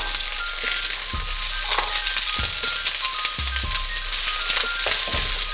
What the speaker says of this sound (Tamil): இந்த காய் வந்து இதுலேயே வறுபடணும், அதனால் இதை கொஞ்சம் வேகமாக மிதத்துக்கும் மேலான தீயில வச்சு இப்படி வறுத்து விடுங்க